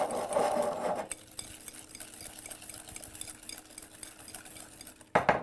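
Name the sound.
whisking egg yolks with sugar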